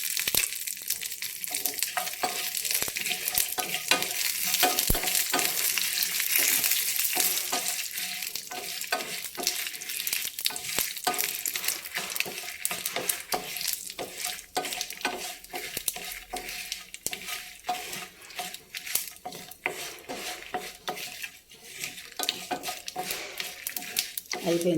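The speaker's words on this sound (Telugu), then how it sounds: "మిరపకాయలు ఇలా వేగితే చాలు" Green chillies frying in oil in a pan for pesara pappu pachadi, a dense continuous sizzle with constant stirring scrapes and clinks, close and steady from start to finish.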